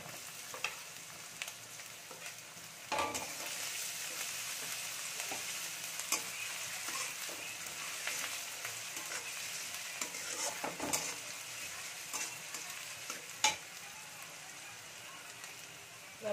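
Chopped ginger sizzling in hot oil for egg tadka, a steady close crackle and hiss with periodic scraping knocks of a spoon stirring in the pan, no talking.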